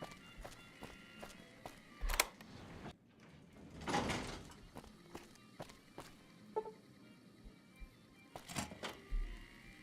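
Doors opening and closing in a video game, with several sharp sliding thuds and bangs spread across the stretch amid scattered footsteps, fairly quiet overall with no talk.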